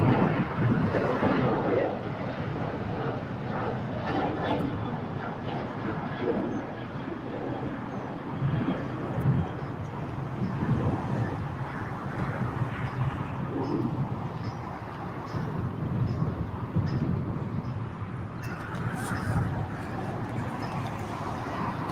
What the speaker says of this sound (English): United 737 taking off at 25 right.